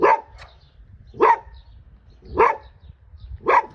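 A dog at an old house for sale in Poltava barks four times in evenly spaced single barks, loud and close, with no talk in between.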